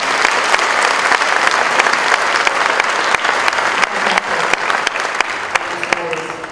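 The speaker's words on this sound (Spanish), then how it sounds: "Así que les pido un fuerte aplauso para Sandra Lorenzano." Audience applause for an author at a book presentation, a dense, steady wash of clapping hands that carries on throughout with sharp individual claps popping out of the mass and a slight thinning toward the end.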